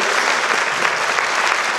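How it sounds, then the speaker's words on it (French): Audience applause at a Christmas show, loud and full, many hands clapping continuously in a lively, even stream with no one speaking over it. "On t'applaudit très très fort avec ces charmantes demoiselles"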